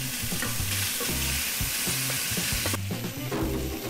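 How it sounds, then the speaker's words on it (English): Chicken frying for fettuccine Alfredo in a large pot, a steady loud sizzle with repeated scraping stirs over about ten minutes of cooking. "fry them till they're cooked through about 10 minutes"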